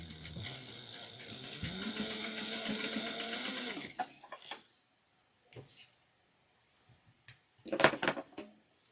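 A sewing machine runs a steady reinforcement stitch on a triangular shoulder bag for about four seconds, then stops, followed by scattered clicks and handling noises near the end.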